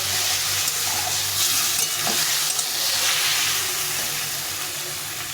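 Vegetables sautéing in a pan with a watery spice paste give a steady, loud sizzle and hiss, with occasional stirring scrapes and no talk.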